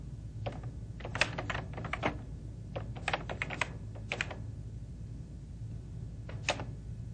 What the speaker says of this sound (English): We'll start by typing a simple letter